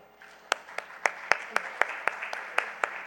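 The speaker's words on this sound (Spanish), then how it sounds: "Un aplauso, por favor," A small conference audience claps steadily for a speaker, with distinct sharp claps standing out above a soft wash of applause.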